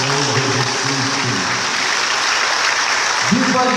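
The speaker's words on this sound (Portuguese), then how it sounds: "vamos dar uma grande salva de palmas ao nosso Senhor Jesus Cristo" A church congregation claps together in a broad, steady round of applause that fills the whole clip, with voices rising through it and a loud shout near the end.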